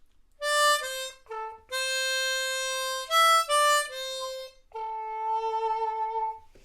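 Harmonica playing the closing phrase, a few sustained breathy notes with short gaps, clear and close, ending on a long held tone.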